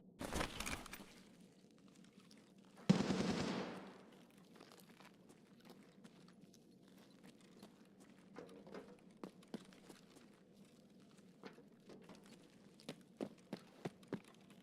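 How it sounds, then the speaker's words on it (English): Two loud bursts of AK rifle fire in the Escape from Tarkov video game, one at the very start and another about three seconds in, followed by quiet scattered ticks and clicks. "That's an AK of some sort."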